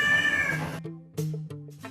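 A mother cat calling her kittens on a rooftop gives a drawn-out meow followed by a few shorter, lower chirping calls, close and clear, with no talk over it.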